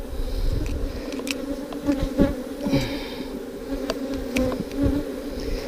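Honey bees buzz steadily and loudly at close range during a hive inspection, a dense continuous drone from many insects with individual bees swelling and fading as they fly past, while the bees attack a small hive beetle on an undrawn frame.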